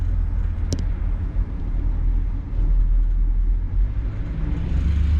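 A 1966 Ford Galaxie 500 convertible on the road, heard as a steady, loud low engine and road rumble with a faint brief tick near the start and no voices.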